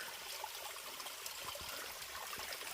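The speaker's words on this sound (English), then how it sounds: "It's a mini waterfall." A small waterfall on the Bartram Trail forest path near Warwoman Dell, Georgia, trickles and splashes softly, a faint, steady water babble heard from some distance.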